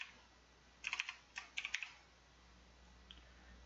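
Quick bursts of keystrokes on a computer keyboard, a few short clusters of crisp clicks, close and faint, then a single later tap in a quiet room.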